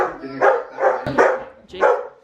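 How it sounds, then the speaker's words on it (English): Jake, a family dog at home, lets out four or five loud, close barks in quick succession, with short gaps between them. "Jake starts barking."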